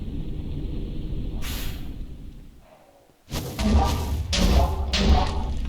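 Mortars strike in a Minecraft mob battle between Satan Clawz and winter bosses, a series of heavy thuds and crashing impacts that burst in after a fading rumble and keep pounding over continuous game noise.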